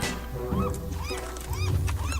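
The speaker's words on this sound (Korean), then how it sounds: "갈매기 우는 거 겁나 더러운데" Repeated squawking seagull cries in the video game Don't Starve Shipwrecked rise and fall in quick succession over a steady low rumble of game audio.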